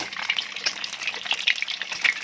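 Two eggs crackle and sizzle in a hot pan for nasi goreng, a continuous hiss with sharp spits and pops throughout and no voice over it.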